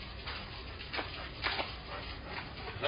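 A dog outside a house makes a few soft whimpers and yips with some faint rustling, quiet and fairly close, with no clear talk.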